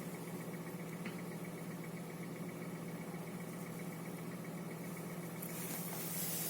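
A Hyundai Solaris engine idles on fresh Shell 5W30 oil with a reported knock, giving a steady, even mechanical hum and vibration that runs throughout and swells slightly near the end.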